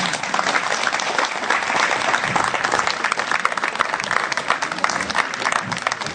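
An audience at a prize ceremony of the Panchmahal Idol 2012 contest in Godhra claps in dense, sustained applause that holds steady and loud from start to finish.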